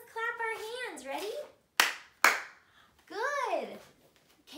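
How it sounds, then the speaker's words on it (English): Two sharp hand claps ring out close together during a children's lesson, with lively sing-song voices talking just before and after them. "Let's clap our hands."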